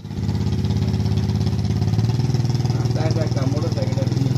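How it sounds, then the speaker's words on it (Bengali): Motorcycle engine idling near the Thailand–Myanmar border, a close, steady pulsing chug with a faint rise in revs, while a person talks over it. "একটা মোটর সাইকেল আছে।"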